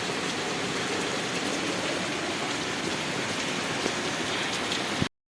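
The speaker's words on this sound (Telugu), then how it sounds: "మళ్ళీ ఇప్పుడు ఫుల్ వర్షం." Steady, dense downpour of heavy rain drumming on a surface, heard from under a trolley, a continuous broadband roar with no pauses, close and loud throughout.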